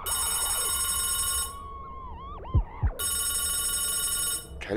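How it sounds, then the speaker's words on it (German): A telephone rings in an indie horror game set in a haunted hospital, with steady electronic ring bursts, a pause broken by a few dipping tones and low thumps, then ringing resumes. "Telefon. What telephone?"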